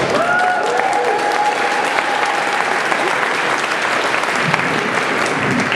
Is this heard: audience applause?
yes